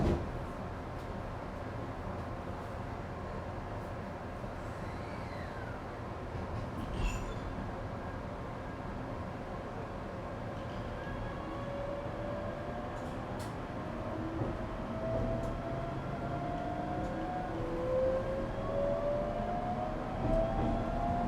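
Echigo Tokimeki Railway ET127 series electric train with a Toyo GTO-VVVF inverter, running between Arai and Naoetsu: rising and falling inverter whine layered over steady wheel and rail rumble, continuous and loud from onboard.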